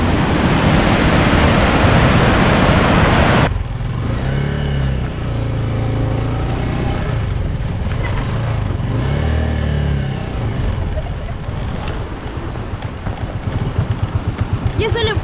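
Motorcycle ride on a first trip from Lima toward Marcahuasi in Huarochirí, over wet dirt tracks with water: a steady close engine drone mixed with strong wind buffeting, loudest in the opening seconds and then a lower, rougher rumble, with a voice talking over it.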